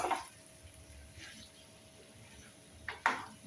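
Vegetable pasta noodles are stirred in a pan with a utensil: quiet scraping and soft clinks against the metal, then a couple of sharper scrapes near the end over a low background hum.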